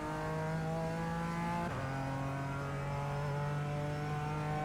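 BMW GT4 race car engine in the iRacing sim on the Nordschleife, holding a steady high-revving whine that drops briefly as the gear shifts, then stays loud and continuous.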